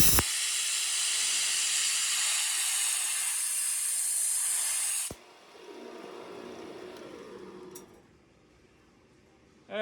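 Steady, loud hiss of compressed air blowing alcohol off a Chinese elm pen blank, a continuous blast lasting about five seconds, then a softer rushing that fades, with a brief clatter at the end.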